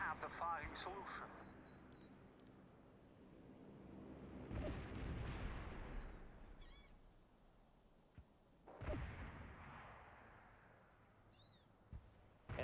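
Mobile mortar artillery in the real-time strategy game World in Conflict: several deep booming blasts with rumbling tails over a noisy battlefield, spaced a few seconds apart, with radio voices talking.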